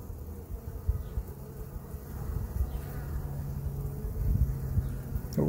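Honeybees at a hive outdoors, a continuous close buzzing of many insects working together, with light wind noise and no talking.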